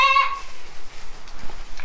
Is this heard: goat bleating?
yes